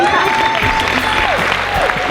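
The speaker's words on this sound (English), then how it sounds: "I want to hear an even louder applause" A crowd claps steadily at the Ironman Muskoka 2015 race awards ceremony, loud and close, while an announcer's voice carries over the applause.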